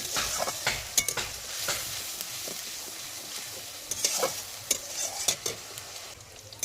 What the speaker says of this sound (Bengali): পেঁয়াজটা একটু হালকা ভেজে নেব আমি।